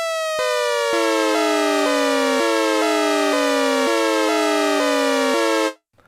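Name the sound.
Sequential Take 5 synthesizer with three LFOs modulating pitch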